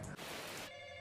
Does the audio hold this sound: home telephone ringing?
yes